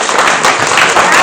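A burst of audience applause at an award event, loud, dense clapping that fills the whole moment, with some crowd noise mixed in.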